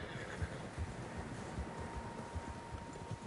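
Several horses neigh and snort faintly in a Red Dead Redemption 2 outdoor scene, with soft low thuds of movement spread through a quiet, breezy background.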